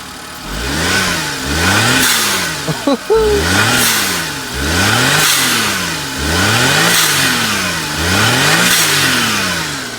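A Suzuki Wagon R engine with a Blitz aftermarket blow off valve revs repeatedly in rising and falling sweeps, about six rev cycles, with a brief sharp burst near the middle, loud and close.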